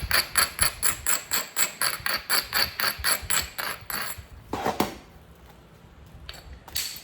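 A spall of Georgia chert is knapped along its edge to bevel it, giving a steady run of sharp, evenly spaced clicking taps, then a pause and a few more strikes near the end.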